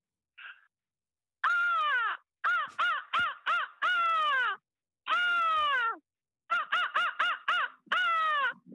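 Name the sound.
person imitating a seagull's cry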